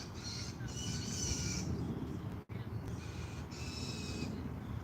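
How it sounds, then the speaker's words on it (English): A bird repeatedly gives harsh, distressed-sounding calls outdoors, two long screeching bursts separated by a pause, over steady low background rumble. "That bird sounds like he's in distress."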